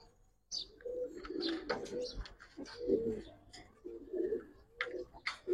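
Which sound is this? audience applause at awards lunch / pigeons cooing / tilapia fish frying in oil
pigeons cooing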